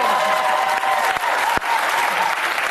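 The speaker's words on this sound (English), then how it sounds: "Begging for applause." Studio audience applause at a daytime talk show, a steady dense wash of clapping from a large crowd that carries evenly for the whole stretch with only brief dips.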